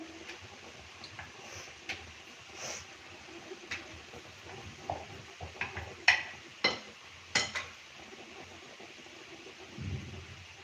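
Potato and pea samosas frying in oil over low heat, a faint steady bubbling hiss with sporadic small pops and a few clinks, quiet and close.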